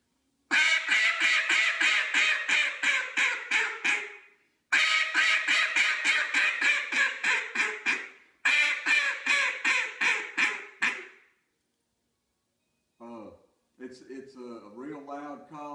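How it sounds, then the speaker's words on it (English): A duck call blows a hail call, three long loud sequences of rapid descending quacks, each tapering off, followed by someone speaking briefly at the end. "So let's do a hail call right now."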